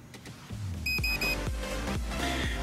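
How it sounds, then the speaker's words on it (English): A few short electronic beeps from a remote dog training collar transmitter ring out clearly, including a quick double beep on pairing with the receiver, over steady low background hum. "You will hear a double beep,"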